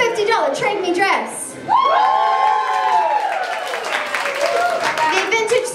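An audience cheers and whoops at a fashion event, with loud shouted woos and some clapping. The cheering swells after a short pause and then keeps going in an excited, rising chorus.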